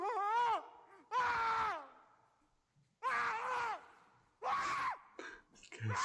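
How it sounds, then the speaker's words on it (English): A man screaming in fear in a ghost scene, with several strained, wavering shrieks and groans in separate bursts split by brief near-silent gaps. "This guy's screaming like crazy."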